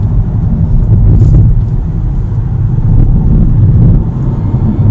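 A Hyundai Kona electric car accelerating, with a steady loud low rumble of road and wind noise inside the cabin and no clear engine note.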